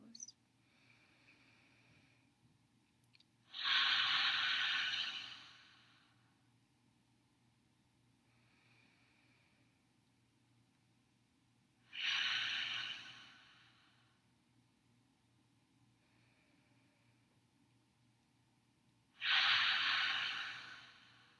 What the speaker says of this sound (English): taking the breath in through the nose, out through the mouth, making a wave-like ha sound